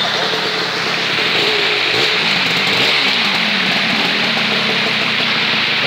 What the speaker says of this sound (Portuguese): É moto, né? Tá bom, é a moto.